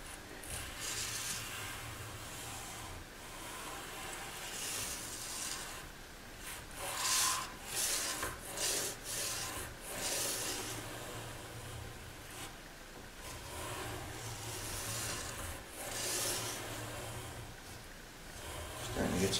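Steady scratchy rubbing of 400 grit sandpaper over guitar frets, worked back and forth in short passes with brief pauses, close and fairly faint.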